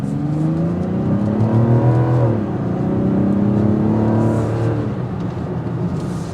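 A 2024 Mazda CX-90 with an inline six accelerates on a test drive, the engine note rising steadily, dropping at a shift, then climbing again in a smooth, moderately loud in-cabin hum.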